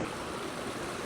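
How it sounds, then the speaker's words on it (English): A small stream trickles over rocks on the Cornish coast near The Rumps and Polzeath. It gives a close, steady rush of broadband water noise with no voices. "Well, it's waterfalling, so it technically is a waterfall, but it is a stream."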